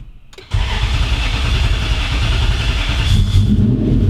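A V8 drift truck engine cranks briefly, then catches and settles into a loud, rough, steady idle with a slight rise near the end, running with part of the muffler section removed.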